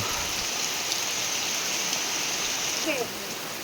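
Heavy rain pouring down steadily, a dense, loud hiss of water on surfaces that holds even throughout, with no clear voices over it.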